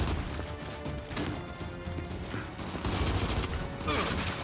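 Gunfire and impacts in the shooter game Gears 5, a loud, dense stretch of shots, crashes and thuds running continuously throughout, with no talk.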